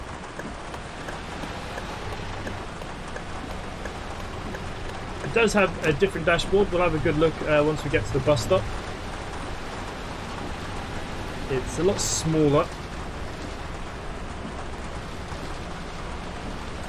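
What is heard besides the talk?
rain at night in Bus Driving Sim 22 video game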